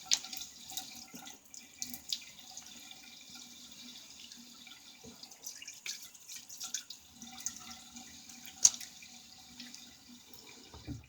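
Tap water runs into a sink for a rinse during a wet shave. The flow is a faint, steady trickle throughout, broken by a few soft clinks and splashes, with no voices.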